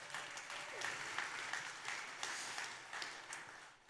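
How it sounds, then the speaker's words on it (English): Audience at a sleep industry summit applauding, a moderately faint, continuous patter of clapping from a crowd with slight swells, lasting a few seconds. "Please give yourself a round of applause."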